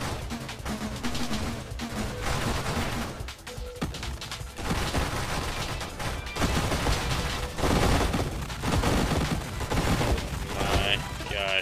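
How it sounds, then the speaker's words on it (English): Dense, continuous volleys of weapon fire from the space shooter game Nova Drift, many guns and blasts overlapping in a loud, busy barrage with crashes and booms throughout. "that's a lot of things firing right now"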